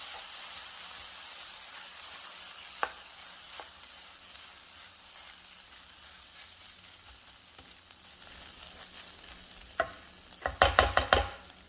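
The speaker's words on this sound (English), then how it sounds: "I'm going to add some rice cooking wine. The type I'm using is Shaoxing cooking wine." Shaoxing rice cooking wine sizzling in a hot pan of Shin Ramyun egg fried rice, a steady soft hiss with a few clicks, ending in loud metallic clatter of stirring.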